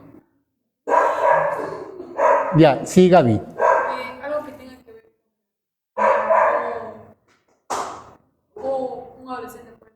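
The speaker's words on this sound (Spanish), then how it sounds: "Y de hecho que debe ser pequeño porque ladran fuerte" Several small dogs bark loudly in bursts, their yips mixed with and partly masked by people talking over them.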